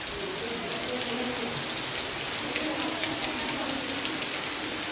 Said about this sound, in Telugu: చూడండి ఎంత వర్షం వచ్చేస్తుంది. ఫుల్ వర్షం.